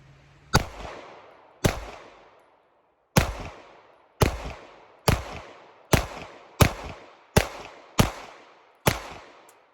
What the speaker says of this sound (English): Let's put some rounds down range.